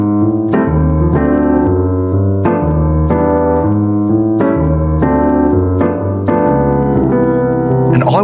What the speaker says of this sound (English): some comping rhythm, 1 and 2 and 3 and 4. I'm just playing a lot of those off beats